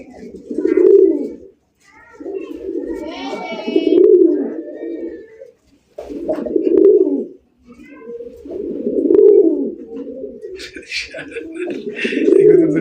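Domestic pigeons of the Raj Golla breed, red and sky-blue varieties, coo in deep, close, loud repeated phrases, five or six swelling bouts with short gaps, with faint chirps and background noise between.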